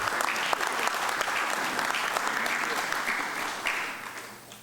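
An audience at the APIL 40th Annual General Assembly gives the host a warm round of applause, many hands clapping in a dense, sustained burst that slowly thins and fades toward the end, with a voice faintly heard beneath.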